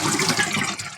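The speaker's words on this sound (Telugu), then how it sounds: "బాగా గుజ్జులాగా చేసుకున్నాక ఒక రంధ్రాల జల్లెడ తీసుకొని వడపోసుకోవాలి" Tomato pulp is strained through a perforated sieve while making tomato rasam, a close, wet sloshing and trickling of liquid lasting about a second.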